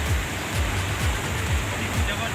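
A swollen mountain stream in Pithoragarh rushes after heavy rain, a continuous loud roar of churning water with rhythmic low surges, close and steady throughout.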